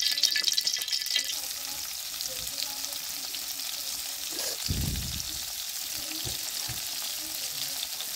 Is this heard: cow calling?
no